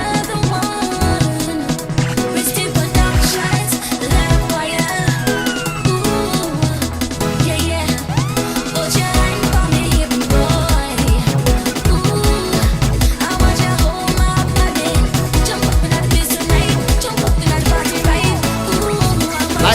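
Loud, dense soca music mix from an analog mixing setup, with a driving steady beat, thick bass and bright layered instruments running continuously throughout.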